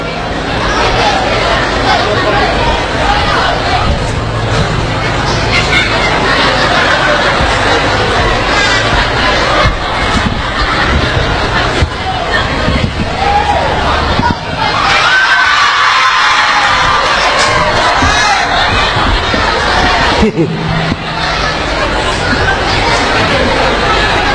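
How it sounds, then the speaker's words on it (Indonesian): An audience of children and adults at a live comedy stage show cheers, shouts and whoops loudly and continuously for an arriving performer, a dense crowd roar with a brief dip near the middle. "mari kita tepuk tangan yang meriah"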